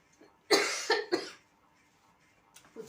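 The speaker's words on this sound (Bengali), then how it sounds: "হাত ঢুকিয়ে কাশছে" A short burst of three close, harsh coughs in quick succession, followed by quiet and a faint throat sound near the end.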